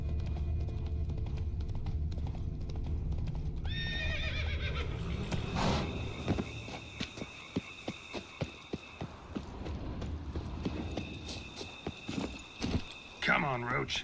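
Horse in the game Witcher 3: Blood and Wine, hooves clopping in a steady run under game ambience, with sharp neighs near the middle and again near the end, and brief voice sounds mixed in.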